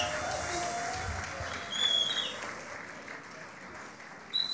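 A congregation at a gospel event gives sustained applause and cheers that fill the whole stretch, with a brief swell partway through and a short louder burst at the end.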